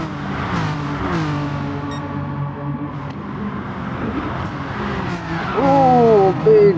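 A race car slides on the Sardegna circuit in a GT racing game, its engine droning steadily, then tires squeal in rising, wavering tones near the end of the run.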